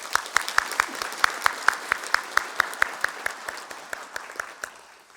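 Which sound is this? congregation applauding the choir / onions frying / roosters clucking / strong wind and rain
congregation applauding the choir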